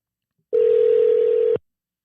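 A single steady telephone tone sounds for about a second during a call being placed, clean and loud against silence, with no voices.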